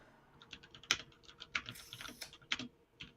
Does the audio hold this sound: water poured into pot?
no